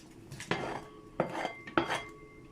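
A metal spoon scrapes peas around a cooking pot, three distinct clanking strokes with short ringing scrapes between them, close and moderately quiet.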